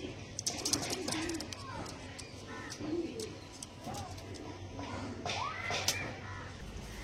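Pigeons kept in pairs by a fancier coo repeatedly nearby, soft rolling calls rising and falling over steady background hum and faint chirps, with no talking.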